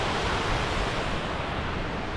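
Water rushes loudly and steadily down the stepped stone outflow of the River Ripponden, a dense, unbroken roar heard close up.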